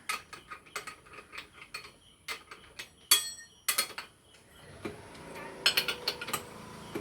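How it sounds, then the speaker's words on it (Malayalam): A spanner tightens a nut on a grass cutting machine, giving a series of sharp metallic clicks and ratcheting taps at an uneven pace, close up with no talking. "അതിനോട് എത്രത്തോളം ടൈറ്റ് ചെയ്യാൻ പറ്റും അത്ര ടൈറ്റ് ചെയ്തിട്ട് ഈ ഒരു സ്പാനർ വെച്ചിട്ട്"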